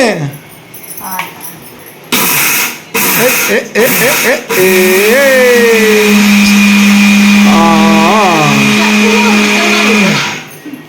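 Kitchen mixer grinder grinding, a loud steady motor whine running for several seconds after a few short starts and stops, with voices talking over it.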